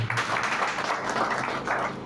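Church congregation clapping for a child during a Sunday Easter-season service, a dense, steady wash of applause from many hands filling the room for about two seconds.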